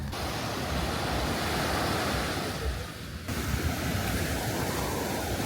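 Sea waves wash onto Patong Beach in Phuket at sunset, a constant loud roar of surf with a short dip in the middle, heard alone without voices.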